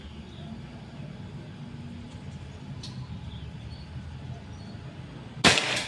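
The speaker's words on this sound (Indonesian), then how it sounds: "Sekarang tembakan pertama untuk tes akurasi yang pertama." A single sharp shot from a Pajero Gun air rifle, fired for an accuracy test, cracks out near the end after a stretch of quiet outdoor ambience, close and abrupt with a short tail.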